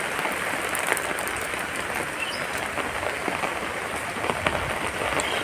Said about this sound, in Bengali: আজকে আমাদের এখানে প্রচণ্ড বৃষ্টি হচ্ছে